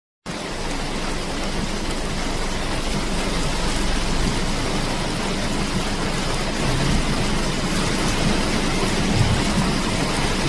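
Heavy rain pours down in Jamaica, a dense, steady and loud hiss of drops on surfaces that continues unbroken throughout with no voices.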